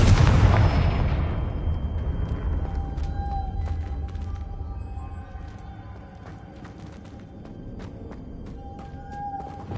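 A Confringo blasting spell in the Hogwarts Legacy video game goes off with a loud boom at the start, then a long rumbling decay with scattered faint crackles and a soft tonal shimmer.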